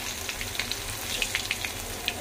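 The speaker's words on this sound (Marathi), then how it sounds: "ठेचलेला लसूण घालून हलकासा लाल होऊ द्यायचा।" Crushed garlic fries in hot oil right after mustard seeds have crackled, for a rustic green-chilli moong dal amti, giving a steady close sizzle dotted with small sharp pops and spatters.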